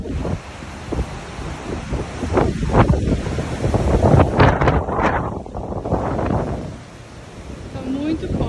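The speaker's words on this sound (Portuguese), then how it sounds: "Mas tá muito forte o vento aqui." Strong outdoor wind buffets the microphone in heavy, surging gusts that rise and fall, with a person talking in Portuguese through the roar.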